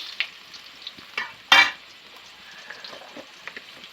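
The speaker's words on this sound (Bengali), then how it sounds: "আলুগুলো ভেজে নিচ্ছি" Potatoes fry in oil in a home kitchen pan, giving a soft crackling sizzle broken by light stirring scrapes and one louder clatter, with no voice present.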